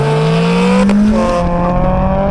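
Modified Mazda MX-5 Roadsters, including a supercharged engine swap, accelerating hard side by side in a drag race, loud engines rising steadily in pitch with a brief gear change midway, close and dominant.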